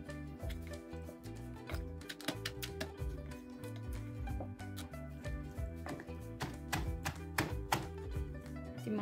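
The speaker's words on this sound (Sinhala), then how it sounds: "චප්ප වෙනකන් නෙමෙයි සාමාන්‍ය විදියට මේක අපි කොටා ගන්න ඕනේ." Thai papaya salad being pounded in a mortar: a steady series of sharp, fairly close thuds and taps in an uneven rhythm, with a soft tonal background running underneath.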